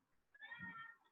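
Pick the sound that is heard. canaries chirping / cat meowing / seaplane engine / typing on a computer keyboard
cat meowing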